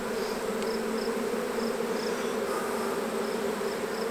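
Honeybees buzzing in an open beehive during a frame inspection, a dense, steady close-up hum that stays constant throughout with no voices.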